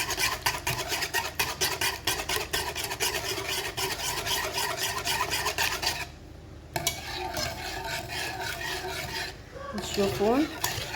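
Sugar being stirred with oil in a bowl for a tea cake batter, a steady gritty rasping and scraping of a utensil against the bowl, repeating in close rhythmic strokes with a brief pause partway through.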